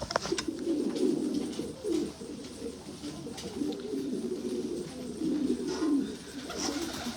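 A flock of about nineteen show pigeons coos softly in repeated low, rolling phrases, close by and fairly quiet, with no talking.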